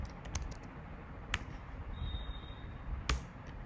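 Keys on a computer keyboard are typed, giving a few sharp, separate clicks over a low background hum. A quick burst of taps comes first, then single presses follow.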